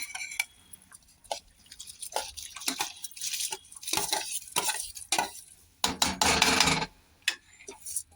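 A spoon scrapes and stirs raw rice into simmering masala rice in a pot, a string of close, uneven scraping strokes with wet clatter and brief pauses, no voices.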